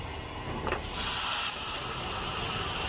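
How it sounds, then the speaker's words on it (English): High-pressure water bursts from a sewer jetting nozzle fed into a blocked pipe, a steady loud broadband hiss that jumps up after a brief lead-in and then roars on continuously. "So the front nozzles cut through and the back ones are pushing the nozzle in."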